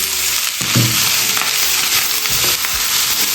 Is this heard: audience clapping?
no